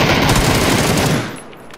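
Loud bursts of automatic gunfire in a multiplayer shooter video game, rapid rattling shots dominating before fading out near the end, with no speech over them.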